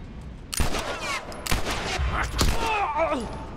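Gunfire in the video game The Last of Us, several sharp shots in quick irregular succession, fairly close, over low background game sound.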